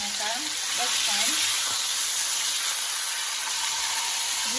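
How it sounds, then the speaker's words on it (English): Steak with garlic sizzling loudly in a hot pan just after being flipped, a steady close hiss of frying fat with no talk over it. "now we're going to flip"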